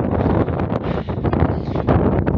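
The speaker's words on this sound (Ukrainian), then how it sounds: "Дує сильний вітер" Strong wind on the Borzhava mountain ridge in Ukraine in November buffets the microphone in continuous loud, rumbling gusts, with a roaring, blustery texture throughout.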